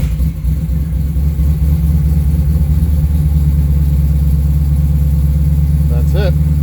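A Ferrari Daytona with automatic choke idles steadily just after a cold start in January, a loud, even low rumble holding throughout with a faint brief click near the end.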